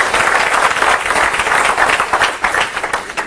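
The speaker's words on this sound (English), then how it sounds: "Give this guy a round of applause." An audience bursts into brisk applause after a speaker's talk, loud dense clapping that fluctuates and begins to thin toward the end.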